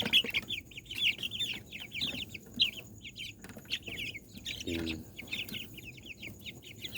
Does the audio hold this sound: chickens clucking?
yes